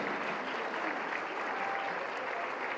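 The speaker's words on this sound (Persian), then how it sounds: "خب احمد مهرانفر و همسر سابقش هم تشویق کنید" A theatre audience at an awards tribute for a TV series claps in a dense, steady wash of applause, moderately distant, with no break across the moment.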